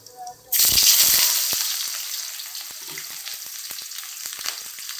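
Onions with cardamom, cloves and cinnamon hit hot oil on a cumin tempering. They burst into a loud sudden sizzle, then settle into a steady crackling fry with light stirring clicks.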